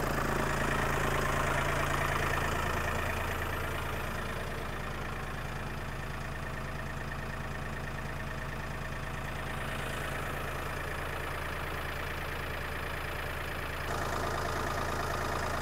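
A Mahindra tractor engine idles steadily with a constant low rumble and hum, close by, with a slight shift in tone near the end and no talking.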